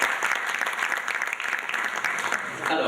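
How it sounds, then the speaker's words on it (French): A forum audience in a hall applauds, dense steady clapping filling the room for the whole stretch, fairly close and even in loudness with faint voices mixed in. "je me permets encore une fois de vous demander de vous applaudir vous-même"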